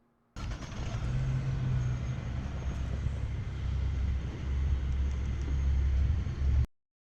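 A 2018 Buick Regal TourX engine started by remote start, a steady close engine hum and rumble that begins abruptly and holds at an even level for several seconds before cutting off.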